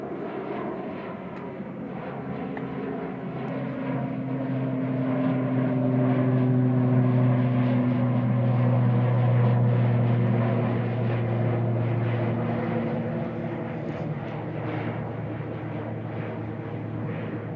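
An ATR 42 turboprop airliner bound for Inverness passes at Manchester Airport, a droning propeller hum with steady tonal whine that builds to a peak mid-pass and fades gently, heard alone without talk.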